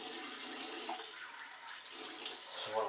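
Shower water runs in a steady, soft wash of spray and splashing, fairly quiet and continuous, with a slight swell near the end.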